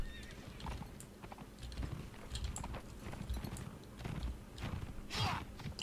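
Horse hooves in the Mount and Blade Napoleonic Wars video game, an irregular run of close clip-clop steps with a neigh and scattered clanks from a battlefield, moderately quiet throughout.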